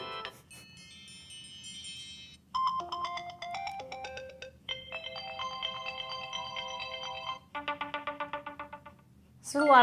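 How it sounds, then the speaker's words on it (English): A run of new iOS 7 iPhone ringtones plays back to back, each a short bright electronic melody of chimes, tones and rapid repeated pulses, clear and close with a faint background hum. "new ringtones"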